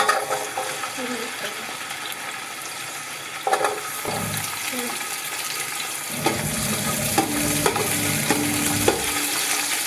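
Onion sizzling in hot oil as a tempering for vegetable pulao, a steady frying crackle with spoon-stirring scrapes and clinks, close and continuous with brief louder bursts, no talk.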